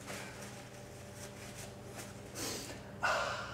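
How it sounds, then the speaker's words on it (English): Someone blows their nose into a tissue after a nasal rinse with a NoseWell rinse bottle: two short, breathy blasts near the end, the second stronger, over a low steady background hum. "And then you get a tissue and blow your nose."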